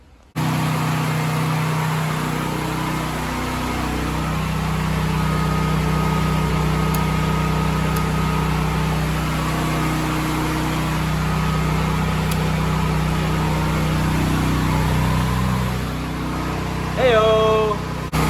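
A home generator engine running steadily at a constant hum throughout, near and fairly loud, with a few brief high beeps or whines near the end.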